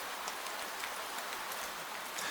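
Gentle rain falling at night over the stone towers and carved ledges of medieval Prague, a steady soft hiss of drops with no voices.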